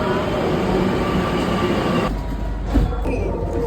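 A Kochi metro train ride heard from inside the carriage, a steady loud rumble and rolling hum that drops away near the end, leaving quieter running noise with a brief thump.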